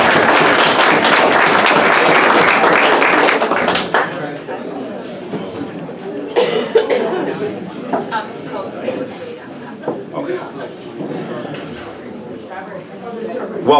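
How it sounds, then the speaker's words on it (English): Applause from a banquet audience at an EMS awards night, a dense roomful of clapping that fades after a few seconds into scattered claps, chatter and talk. "Give him a nice round of applause"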